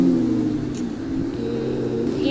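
A car in the Minecraft video game drives along with a steady, loud, low engine drone that holds an even pitch and stays constant, with no talk over it.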